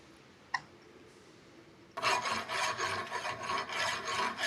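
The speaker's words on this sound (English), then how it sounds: "Little bit of filing is required." A metal workpiece is hand filed down toward a 31 mm diameter, producing steady repeated rasping strokes that start after a brief tap and continue close and fairly loud, with no talking.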